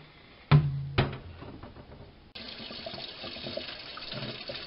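Chlorinated municipal tap water runs to rinse a container while making apple wine. Two sharp knocks come first, then a steady, soft rush of running water.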